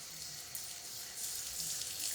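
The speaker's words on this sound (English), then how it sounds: "I'm gonna turn my water on" A kitchen tap runs steadily, a constant hiss of flowing water into a sink that swells slightly louder partway through, with no talking.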